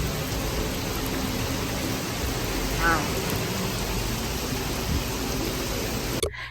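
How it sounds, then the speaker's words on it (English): Heavy rain pouring down during flooding in Charleston, South Carolina, a steady, dense hiss that fills the whole clip at close range, with a brief exclaiming voice partway through. "oh, it's rain, it's pouring down"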